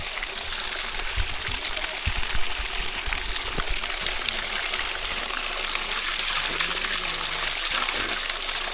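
Continuous splashing and gushing of cold water pouring from a spout fed by a dam on a farm, close and steady throughout, with no talking over it.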